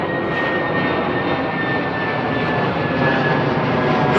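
Airbus A220 jet engines roaring at a Heathrow runway, a loud, steady broadband rumble with a faint high whine, sustained throughout without speech.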